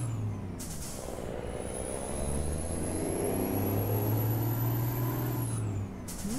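A DAF XF 105 truck in Euro Truck Simulator 2 pulls with a whistling turbo that rises in pitch over a steady low engine drone, with bursts of air-brake hiss at the start and end.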